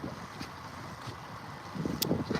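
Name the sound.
wind blowing outdoors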